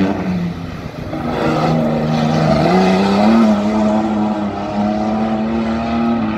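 A race car at the Pittsworth sprints holds a steady, loud engine drone close by, the pitch rising partway through as it revs harder, with no voices over it.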